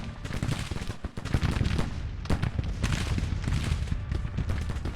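Artillery and massed gunfire in the video game Grand Tactician: Civil War during a night battle, a dense rolling barrage of booms and cracks, loud and continuous without pause.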